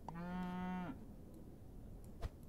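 A single short cow moo from the Super Auto Pets video game, close and clear, followed by quiet with a faint click.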